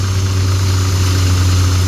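A Swaraj 744 FE tractor runs a Shri Balaji thresher in a pigeon pea (tuver) field, giving a steady, loud diesel engine drone with constant low vibration throughout and no talk.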